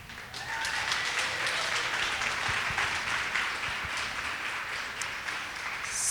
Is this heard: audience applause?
yes